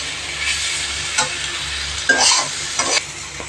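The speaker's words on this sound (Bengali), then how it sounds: "ভালো করে ভেজে নেব।" Coconut fries in a pan for a jackfruit curry. A steady, close sizzle runs throughout, broken by a few sharper bursts of stirring and scraping.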